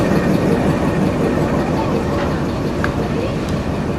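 Pakistan Railways rail car 103 idles while standing at a station, a steady low engine rumble with broadband noise and no speech over it.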